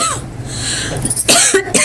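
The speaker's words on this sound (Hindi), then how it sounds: "खांसी आ रही है मुझ पे।" A person coughs a few times, loud and close, in short harsh bursts.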